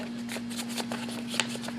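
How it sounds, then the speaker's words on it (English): Quick, rhythmic rubbing strokes of fine wet-and-dry sandpaper over a water-wetted 1923 T-bucket body, a soft scratchy hiss repeating over a faint steady hum. "So I've got some wet sandpaper here."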